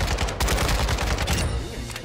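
Rapid bursts of gunfire in the Warzone battle royale game, dense overlapping shots firing steadily for about a second and a half before easing off, loud and close with a faint voice briefly underneath.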